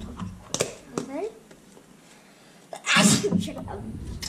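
A single loud, close sneeze bursts out near the end, after quieter moments of a voice speaking softly.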